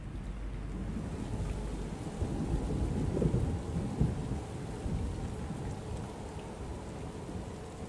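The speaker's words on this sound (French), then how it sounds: "J'ai vu la pluie tomber dans le désert." Steady rain falls in the desert while low thunder rumbles and rolls beneath it, a continuous wash of drops with a few heavier swells and no voices.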